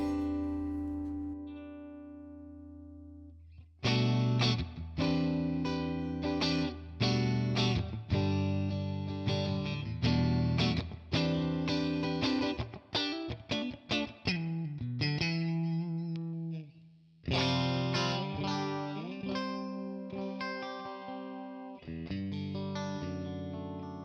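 Electric guitar played through a boutique amp model on a Tonex One with reverb added, loud and sustained chords and riffs in bursts after a quiet opening, with short gaps between phrases.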